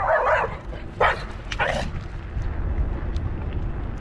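A small dog barks a few times in quick yappy bursts early on, then the noise settles into a steady low rumble.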